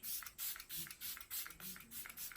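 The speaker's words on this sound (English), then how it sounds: "So I just take this and spray this all over my face, and it has such a nice fine mist." Repeated short pumps of a Becca Skin Love Glow Shield Prime and Set Mist spray bottle, about seven close, hissy fine-mist bursts in a steady rhythm with no talk.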